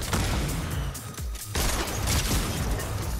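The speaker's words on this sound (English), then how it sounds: "An explosion, the flamingo goes down." Explosion during a Fortnite match: noisy bursts of blasts and crackling gunfire, loud and continuous, with a brief lull midway before the booming resumes.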